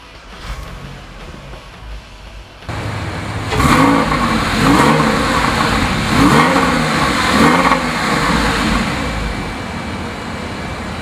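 A 2004 Porsche 911 C4S Cabriolet cranks and catches, then settles into a loud, close idle broken by several sharp revs in a steady rhythm, each climbing and falling away before the next.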